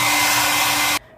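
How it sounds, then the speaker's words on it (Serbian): A hair dryer blows steadily on freshly washed hair, a loud continuous whoosh with a faint motor whine that cuts off abruptly near the end. "i sad je idem naravno osušiti s fenom"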